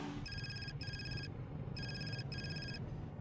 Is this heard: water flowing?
no